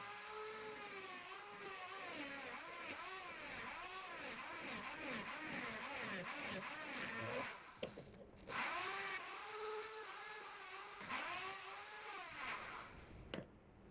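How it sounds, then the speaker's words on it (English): A high-pitched rotary tool whines continuously as its cutting disc grinds between drilled holes in a knife guard, pitch dipping and rising with the load, and one brief pause near the end. "I use a rotary tool with a cutting disc to connect the holes and speed up the process"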